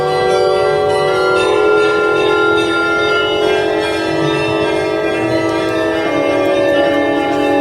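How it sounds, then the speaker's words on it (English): Carillon bells at Santa Cruz church in the Kudichin community play a continuous, ringing melody of overlapping tones that sustains loudly throughout, with no talking. "I can give you a sound from Santa Cruz bell."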